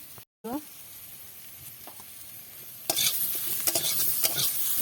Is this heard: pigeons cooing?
no